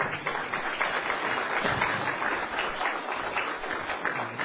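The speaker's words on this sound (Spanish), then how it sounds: "Gracias por el aplauso" Audience applause at a talk on the history of Christianity, a steady, fairly faint wash of many hands clapping continuing throughout, with no voices on top.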